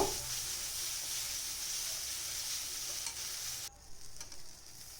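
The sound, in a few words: stirring coconut, chilli and sesame paste frying in oil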